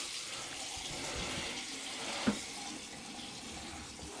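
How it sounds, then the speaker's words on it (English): Tap water runs steadily from a newly installed bathroom faucet into the sink, a continuous close hiss with a brief knock partway through, no talking. "We're gonna run some water."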